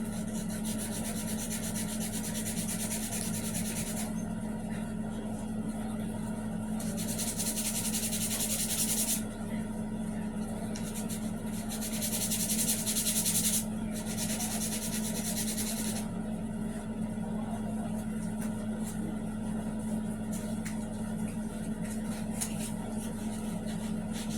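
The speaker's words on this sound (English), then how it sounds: "now we're going to repeat that first process of running our sandpaper down" Sandpaper rubs along a homemade model rocket part in long back-and-forth strokes, a steady close abrasive scratching with bursts of brighter rasping, under a constant low background hum.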